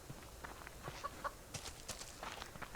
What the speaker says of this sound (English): I did hear another chicken